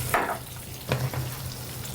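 Butter and oil fry in a pan with a steady close sizzle, broken by a couple of brief scraping stirs.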